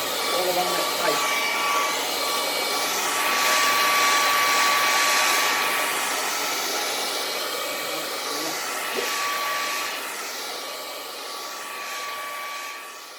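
A hair dryer blows steadily to dry paint along a strip of tape, a loud continuous rushing hum that swells slightly and holds for the whole stretch.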